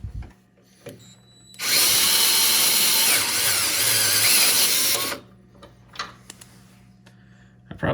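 An electric screwdriver whines loudly and steadily for about three and a half seconds while backing a carriage bolt off a John Deere X700 series mower during an auxiliary hydraulics kit install, with quieter clicks and handling before and after.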